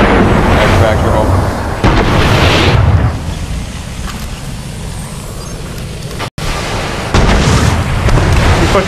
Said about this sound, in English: He's pushing you with rockets right now.